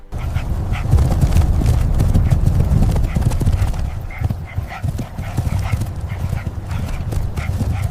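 Wild dogs chase a lone wildebeest across open golden plains, a dense rush of galloping hooves drumming continuously and loudly, with scattered animal calls over the pounding run.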